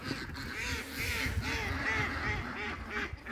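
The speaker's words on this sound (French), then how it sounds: "Donc voilà tous les canards." Ducks quack over and over in a busy outdoor flock, with overlapping calls and a steady background din of other birds.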